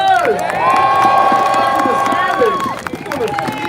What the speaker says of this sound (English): Everyone give Greg Troutman a big warm round of applause!